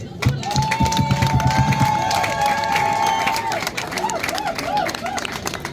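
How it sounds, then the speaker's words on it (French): A crowd at a beauty pageant crowning cheers and claps loudly, with whistles and shouts over the noisy hubbub and a rhythmic stamping early on. "Est-ce qu'on peut acclamer? Tout en acclamant très fort."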